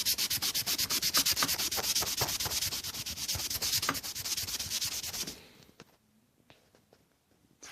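Rusty metal surface scrubbed with a pad after a spray of WD-40, a rapid rhythmic series of close, loud back-and-forth rubbing strokes that stops after about five seconds, followed by a few faint scrapes.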